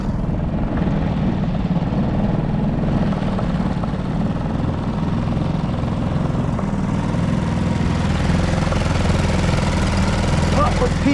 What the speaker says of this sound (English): Outboard's running good.